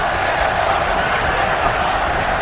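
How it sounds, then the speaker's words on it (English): A huge Russian contingent in an arena crowd at a Fedor versus Antonio Silva fight chants Fedor's name, a dense, steady roar of many voices with no break. "chanting the Fedor name"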